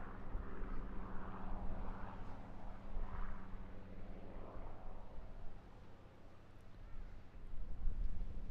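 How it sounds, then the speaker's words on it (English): A Supermarine Spitfire flies a solo display at an airshow, its piston engine a distant, steady drone that rises and falls in waves as the aircraft passes, with faint wind noise. "admire the spirit and ethos of a solo Spitfire"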